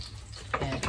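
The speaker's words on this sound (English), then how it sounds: "Chef Petrina is continuing to fry those fritters / pancakes" Cabbage fritters frying in a pan, a close, steady sizzle with a brief stir or scrape, short and without talk.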